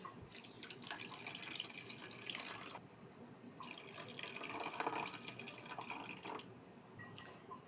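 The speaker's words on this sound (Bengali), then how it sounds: "আর দিয়ে দেব এই যে 1 বাটি পানি" A bowl of water pours onto sugar in a pot for syrup, a close continuous splashing stream in two long bursts with a brief pause between.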